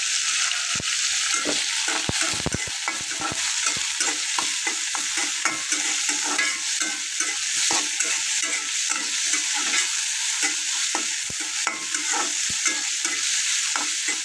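Onions frying in a pan with steady sizzling while a utensil stirs them, giving frequent scraping clicks throughout; close and continuous, no talking, with bitter gourd fry to follow.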